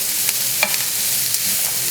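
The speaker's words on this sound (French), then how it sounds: "tu vas venir mettre la carotte et l'oignon doux, hop, dans ta poêle" Carrot and sweet onion go into a frying pan for vegetarian lasagna and soften over low heat, with a close, even sizzle broken by a few light stirring scrapes.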